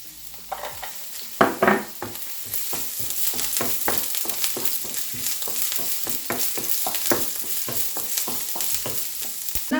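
Fried rice for a party batch sizzles in a small frying pan while a spatula scrapes and tosses it in quick rhythmic strokes, close and fairly loud, with a steady frying hiss underneath and no talking.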